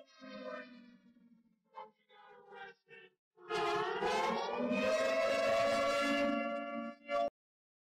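An air raid siren plays loudly from a clip being watched on a gaming stream, a sustained rising wail that swells and holds, preceded by scattered short tones and cutting off abruptly.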